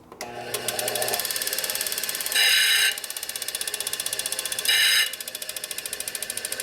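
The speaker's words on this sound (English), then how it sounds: "just take our disc grinder here" A handheld disc grinder works on a part from a 1967 Harley-Davidson 74ci Shovelhead engine, giving a steady high whine with a fast ticking pulse and two short, harsher bursts where the disc bites into the metal.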